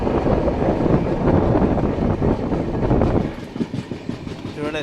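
A train rolls through a valley with a steady loud rumble and faint clickety-clack of the carriages, recorded from on board, with a voice talking in the background.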